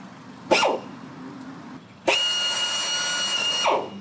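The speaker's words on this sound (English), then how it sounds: "I know how to use a drill." A drill bores into an aircraft fuselage skin while NACA ducts are being cut on a Sling TSi kit build, with two loud whirring bursts: a short one and then a longer steady run of about a second and a half.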